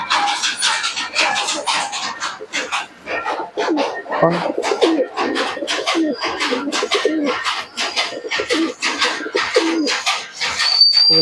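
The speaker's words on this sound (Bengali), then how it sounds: "কবুতরটা একটু ছেড়ে তোমাদেরকে দেখাই" Pakistani Teddy pigeons coo close by in a continuous run of soft, throaty, repeated calls, with a few brief chirps mixed in.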